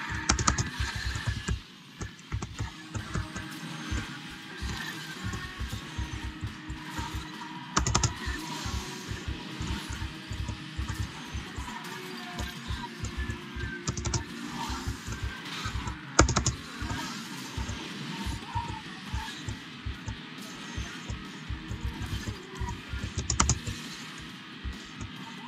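Fingers tap steadily on a computer keyboard, a quick, continuous patter of light clicks with occasional louder keystrokes, close up and mostly alone for the whole stretch.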